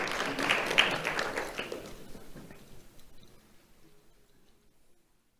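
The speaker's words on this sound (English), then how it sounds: "Let's have a round of applause for Spencer Van Horn." Applause from an audience at a school awards ceremony, a dense burst of clapping that starts loud and then thins out and fades over several seconds.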